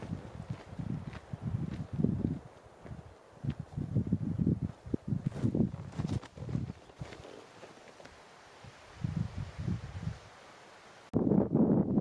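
Gusts of wind rumble against the microphone in uneven bursts at a wilderness lake campsite, fading briefly before a strong gust returns at the end.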